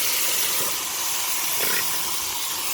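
Taro leaves dropped into a hot frying pan over browned ingredients, giving a steady, moderately loud sizzling hiss with a brief surge partway through.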